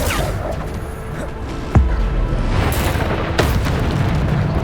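Bombarda spell explosions in Hogwarts Legacy: a sharp booming blast near the middle, then another burst, over a continuous rumbling game backdrop with no voices.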